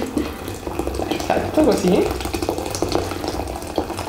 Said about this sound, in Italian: Ci versate l'acqua di sopra.